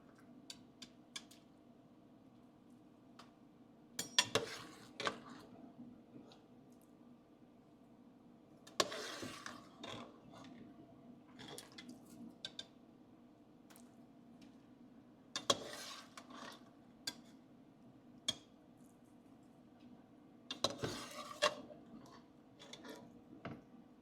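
Salted pigtail going into a pot for Jamaican stew peas: a few quiet, scattered clunks and clatters of meat and metal spaced several seconds apart over a low, steady kitchen hum.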